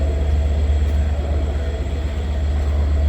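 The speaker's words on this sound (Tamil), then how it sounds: "ட்ரெயினும் ஸ்டார்ட் பண்ணிட்டாங்க" A train pulls out of Colombo railway station on the Colombo to Jaffna run, heard from inside a compartment as a loud, steady low rumble with faint rhythmic wheel clatter throughout.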